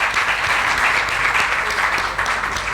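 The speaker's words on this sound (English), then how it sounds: "Clap for yourselves." A crowd at the 2018 PRAU Excellence Awards ceremony claps steadily in a dense, sustained burst of applause that fills the room and continues without pause.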